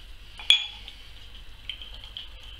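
English Bass beer is poured into a glass at close range, a soft steady liquid trickle with a sharp clink at the start, quiet and unaccompanied by speech.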